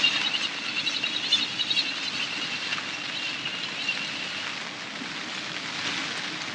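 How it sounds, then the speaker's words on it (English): Rain falls steadily at Barston Lakes during a fishing match, a soft continuous patter and hiss at moderate distance, with no one talking. "As the rain comes down,"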